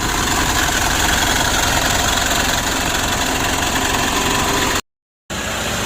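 A Mitsubishi Pajero Sport Dakar DI-D diesel engine idles while warming up after overheating, giving a steady, close, rumbling clatter that cuts out briefly near the end.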